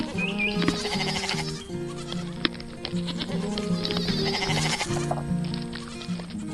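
Several goats in a pen bleat repeatedly, close and loud, their wavering cries overlapping over a steady background of animal noise.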